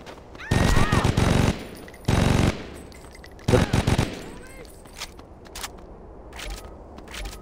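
Bursts of automatic gunfire from Saints Row 2, three loud volleys of rapid shots with pauses between them, followed by fainter scattered shots and game ambience.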